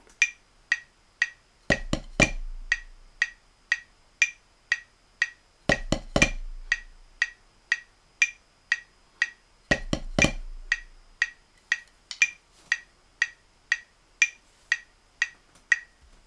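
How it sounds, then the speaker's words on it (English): A drum groove repeats steadily: crisp hi-hat ticks keep time, with a heavy bass drum and snare hits landing every few seconds, played alone. "So here's what the drum part sounds like."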